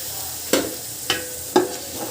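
A soft continuous sizzle of tomato and onion paste frying in a pan, broken by three evenly spaced scraping stirs of a spoon.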